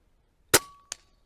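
A single sharp shot from an Umarex Notos regulated micro carbine PCP air rifle cracks out close and loud, followed by a short ringing tail and a fainter metallic knock a moment later.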